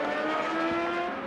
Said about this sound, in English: The car down, it stalls. Now it refires. Now, yes, it's fired.